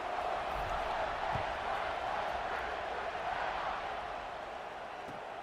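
Dense, steady roar of a football stadium crowd just before kickoff, a broad wash of cheering and chatter with occasional whoops rising out of it, sustained and fairly distant throughout.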